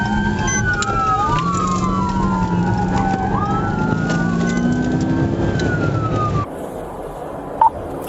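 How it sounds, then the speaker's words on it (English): A wailing police car siren sweeps up and down loudly for several seconds, then cuts off abruptly, leaving a quieter hum with a brief click. "Do I need to turn my sirens on?"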